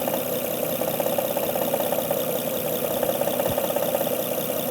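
Honda Odyssey engine idling with a ticking noise blamed on a faulty timing belt tensioner: a steady, close mechanical hum with fine rapid ticking running evenly throughout.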